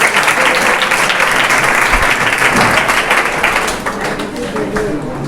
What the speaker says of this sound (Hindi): चलो ताली बजाओ